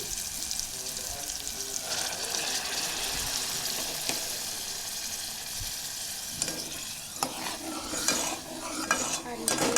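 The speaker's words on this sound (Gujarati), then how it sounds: "વઘાર કરશું એનો" Dal being tempered in a pressure cooker pot gives a continuous sizzle and bubbling, with a spoon scraping and stirring close by and occasional metallic clinks.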